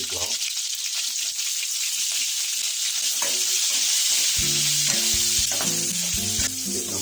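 Brinjal pieces fry in oil with a loud, continuous sizzling hiss and stirring, while tonal background music comes in partway through.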